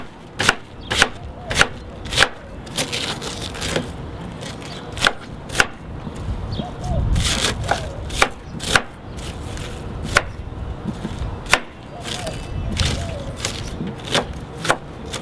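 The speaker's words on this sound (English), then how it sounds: "just take the rest of it, just chop it finely" A knife finely chopping cabbage on a board, a steady run of sharp close thuds at a brisk uneven rhythm, with soft shredding rustle between strokes and no talk.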